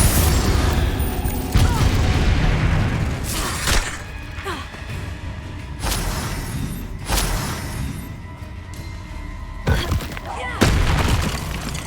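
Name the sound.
spell blasts in Hogwarts Legacy video game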